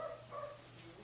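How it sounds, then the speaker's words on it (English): Dogs bark indoors in the background, giving a faint, brief burst of a couple of high yipping barks that sound muffled and somewhat distant. "Sorry my dogs are barking."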